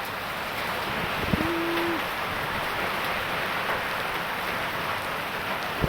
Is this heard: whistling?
no